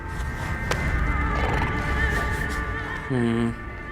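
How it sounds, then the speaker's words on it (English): A pig-like creature in Amnesia: A Machine for Pigs snorts and growls through a rumbling game soundscape, ending in a short, strained squealing grunt as someone talks over it. "Hear more snorting and growling."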